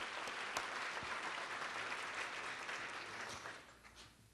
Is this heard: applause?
yes